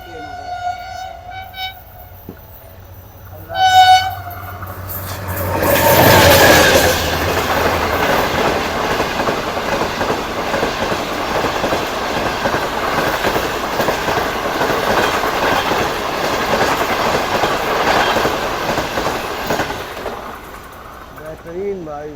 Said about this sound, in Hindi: कोई ट्रेन आ रही है बहुत स्पीड में